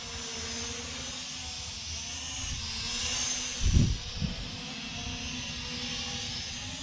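An LMRC LM01 GPS FPV drone hovering outdoors with a steady whining propeller buzz and a brief gusty rumble partway through, fairly close, with no voices.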